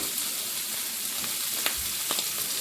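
Shrimp frying in coconut oil in a pan, giving a steady close sizzle with a few sharper pops and crackles, no voices.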